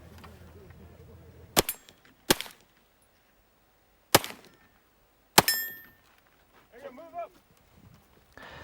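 Pistol shots ring out on steel targets at an outdoor shooting stage, four sharp separate cracks with metallic pings spread over several seconds, followed by brief talk.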